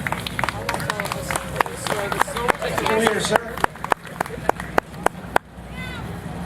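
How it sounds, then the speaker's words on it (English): Scattered handclaps from a small Toastmasters meeting audience for a member who told a story, uneven sharp claps over room murmur and talk, thinning out before a brief spoken thanks. "let's give Jack a big round of applause for being so brave to come up and tell a story"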